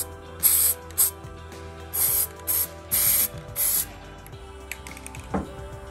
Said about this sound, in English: So you're supposed to shake the can really well, and I do about 2 coats of primer on each side of the knob.